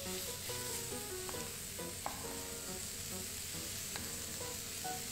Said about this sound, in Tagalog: Ginigisa ko lang itong liyempo hanggang sa maging light brown na yung kulay ng outer part.